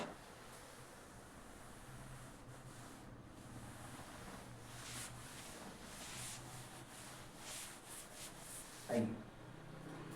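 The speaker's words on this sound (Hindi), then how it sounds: "अब इसको देखेंगे, इस पार्ट को रब कर लेते हैं।" Steady rubbing on a classroom board while part of it is erased, a continuous soft scraping hiss that runs for several seconds at close range with a slightly louder stroke near the end.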